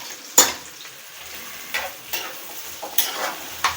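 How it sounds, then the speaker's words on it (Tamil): Chopped onions sizzling and frying in oil in a pan for mutton chukka, with several sharp stirring scrapes at irregular intervals over a steady background hiss. "சேர்த்துக்கிட்டு நல்லா வதக்கலாம்."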